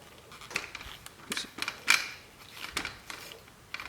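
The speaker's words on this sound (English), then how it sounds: "It's got a crank handle." A Walmart 60-inch pro series camera tripod's center pole is cranked upward by its handle, giving faint, irregular plastic creaks and small mechanical clicks at close range.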